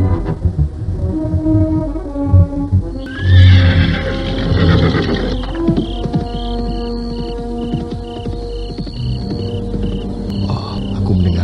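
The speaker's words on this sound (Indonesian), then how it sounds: "Suara kuda ayah." A horse whinnies loudly and at length at night in a historical Javanese kingdom setting, its neigh rising over a steady bed of dramatic music with some clip-clop and shuffling, no voices.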